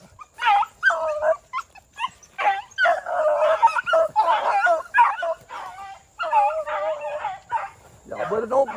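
A hunting dog from a bred pack bays and barks in repeated drawn-out, yipping bursts, fairly close and loud, with brief pauses between calls.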